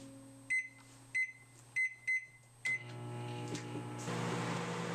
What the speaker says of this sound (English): Now again put the bowl in microwave and heat it for 3 minutes.